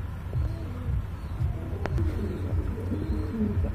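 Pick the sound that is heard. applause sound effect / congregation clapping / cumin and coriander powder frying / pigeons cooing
pigeons cooing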